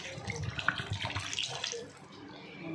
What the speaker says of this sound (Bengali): আমি এবার জল ঢেলে দিচ্ছি